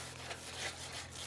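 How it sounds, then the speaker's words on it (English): A round tube-shaped sanding block rubbed steadily against a surface in a blacksmith's workshop, giving a continuous close, dry scraping texture over a low steady hum. "we got the new sanding blocks tube."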